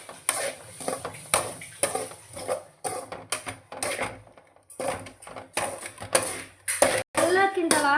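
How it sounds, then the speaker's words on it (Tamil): Ingredients roasting in a pan on low heat are stirred steadily, a spoon scraping and clinking against the pan in short repeated strokes beneath a person talking. "நம்ம கைவிடாமல் கிண்டி சிம்மில் வச்சு கிண்டலாம்"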